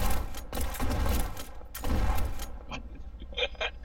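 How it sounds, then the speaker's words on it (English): Gunfire in the police game Flashing Lights: two loud, dense bursts of shots, followed by quieter scattered clicks and pops. "Shots fired."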